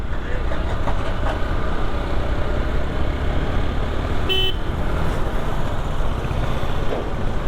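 One short, sharp vehicle horn honk cuts through a loud, continuous roar of wind and engine during a motorcycle ride on the road near Khopoli, with no talking.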